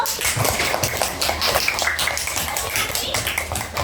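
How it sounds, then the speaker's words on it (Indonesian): In a children's coding lesson, a group claps for a girl named Naomi, with a steady run of quick, close handclaps lasting a few seconds. "Tepuk tangan buat Naomi dulu"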